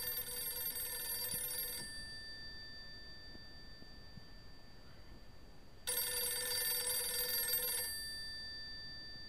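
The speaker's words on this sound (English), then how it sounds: "That's a really old ring as well." Two bursts of an old-style telephone bell ring out in the horror game Darkghost, each about two seconds long and separated by a quiet pause. The ringing is loud and clear with no voices.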